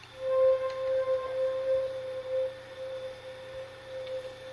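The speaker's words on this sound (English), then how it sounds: "It's really simple, just let the pad do all the work. Play those simple notes." A soft synth pad sustains simple long notes, a steady held tone shifting pitch once or twice, quiet and alone over a faint noisy background.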